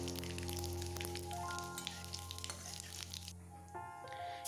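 Whole cumin seeds hit hot oil already holding dried red chilli and a bay leaf, giving a faint, crackly sizzle with scattered small pops over a low steady hum.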